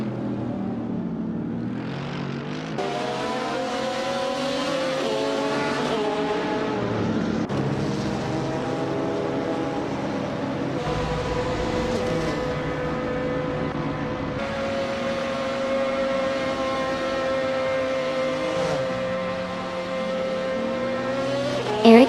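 Race cars lapping during a qualifying session, engines roaring loud and continuous with rising and falling pitch as cars pass close by, one after another, with no talk.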